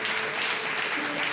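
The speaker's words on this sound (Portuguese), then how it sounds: "Você pode aplaudir o Senhor Jesus por isso?" A church congregation applauds the Lord Jesus, a brief, dense burst of crowd clapping that is fairly close and steady, with faint voices mixed in.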